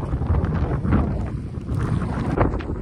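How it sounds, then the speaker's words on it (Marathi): Strong wind and heavy stormy rain sweep across a mountainside where hikers sit sheltering, a loud continuous roaring rush with gusty buffeting close to the microphone and no speech. "मागून एवढा जोरात तुफान पाऊस आणि वारा आहे ना"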